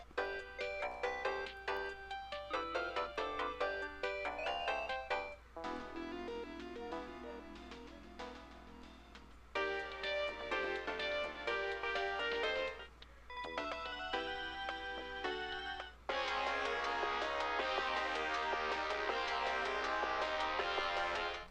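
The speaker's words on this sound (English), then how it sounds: "Ringtone for call." Melodic phone ringtone for an incoming call in the video game Steins;Gate 0, a bright synthesized tune that plays continuously and clearly in several phrases, with no talking.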